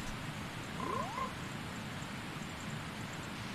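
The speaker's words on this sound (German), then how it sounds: "Das sind ja alle, die ganzen Frösche." Frogs croak in the video game Zelda: Majora's Mask, a brief rising chirp among faint overlapping calls over a low game ambience.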